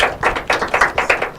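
Brisk applause for quiz teams from Rise International Schools and First Baptist Schools at an inter-collegiate quiz and debate competition, a steady run of claps from a small crowd, close and even.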